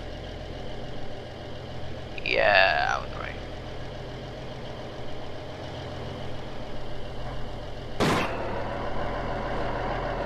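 A diesel truck engine idles in BeamNG Drive with a steady low rumble, broken by a rising whine near the start and a sharp hiss burst about eight seconds in, like an air brake, while a voice speaks briefly.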